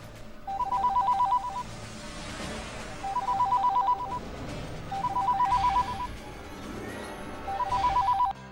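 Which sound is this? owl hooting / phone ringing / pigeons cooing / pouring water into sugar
phone ringing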